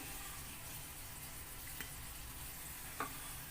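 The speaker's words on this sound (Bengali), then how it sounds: "এগুলোকেও একটু হালকা করে ভেজে নিচ্ছি" Pithe cakes fry in hot oil, making a faint, steady sizzle throughout, with a couple of small clicks near the end. There is no talking.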